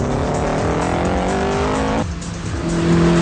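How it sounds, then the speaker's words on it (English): An Ariel Atom Mugen accelerates hard in third gear, its intake induction noise rising in a steady revving whine, dipping briefly at a gear change and then climbing again, loud and close. "You get a fantastic induction noise from the intake here."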